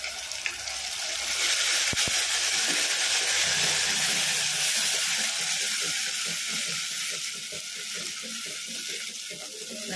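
Ground spice paste frying in hot oil for a brinjal tamarind curry, a steady close sizzle and crackle running throughout with faint watery bubbling underneath and no talking.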